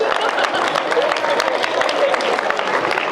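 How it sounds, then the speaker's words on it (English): Audience applause fills a school assembly hall, a steady dense wash of clapping from a crowd, sustained and fairly loud throughout without a clear break. "Give them a round of applause."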